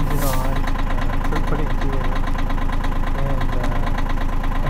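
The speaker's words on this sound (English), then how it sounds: "So I turned the engine on" A boat engine idles at low RPM with a steady, loud, knocking pulse and mechanical vibration that continues evenly throughout.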